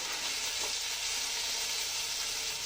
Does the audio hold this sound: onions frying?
yes